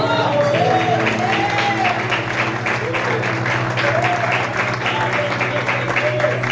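Congregation at a church women's gathering claps along as a band plays a steady sustained chord, with a voice singing or calling out over the applause throughout.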